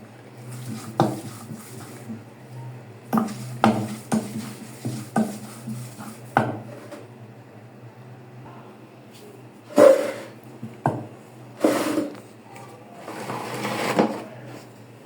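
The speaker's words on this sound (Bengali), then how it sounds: "ভালো করে পাটায় বেটে নিব" Fish mash for bhorta being ground on a stone grinding slab (pata), intermittent scraping and knocking strokes in irregular bursts with quiet gaps between, close by.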